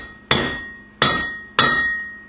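Three ringing metallic hammer blows on hot metal on an anvil while forging a hook, evenly spaced, each strike sharp and bright with a lingering clang that decays before the next.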